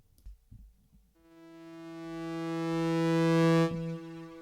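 Synth tone sent through a volume pedal plug-in into a supermassive delay: a rich harmonic note swells in smoothly, grows steadily louder, then cuts off sharply, with a faint decaying tail.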